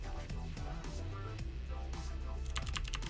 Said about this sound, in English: We're just using our arrow keys.